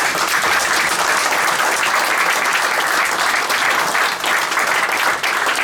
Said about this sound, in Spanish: Pido un aplauso para Maricarmen.